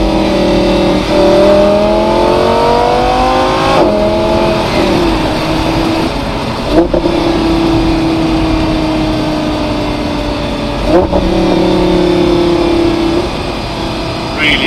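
An Audi R8 V10 Spyder with S-tronic gearbox blips its engine on rev-matched downshifts, the V10 repeatedly rising and falling in pitch, loud and close from inside the car, with someone talking over it.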